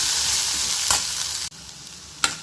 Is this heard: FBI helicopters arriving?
no